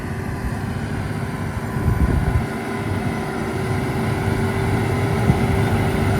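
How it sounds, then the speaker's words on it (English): A Massey Ferguson tractor with a Valtra engine pulling a silage harvester with a pickup reel across a field in silage season, a steady loud droning engine that swells slightly as it works on, no talking. "I think it's a Valtra engine in that, will be, won't it?"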